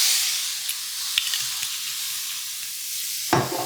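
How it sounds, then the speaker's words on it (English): Wine sizzles and hisses steadily in a hot CHEFWIN 5-ply stainless steel 11-inch skillet, a bright continuous frying hiss with a few soft scrapes, closing on a louder burst of sizzle. "I'm going to go ahead and deglaze this with a little bit of wine."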